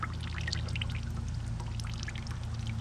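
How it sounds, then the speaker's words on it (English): Fresh water pouring steadily into the fresh-water tank of a 1994 Fleetwood Flair 32 diesel pusher motorhome, a constant close rushing splash with no pauses. "Now I'm putting in some fresh water in the tank"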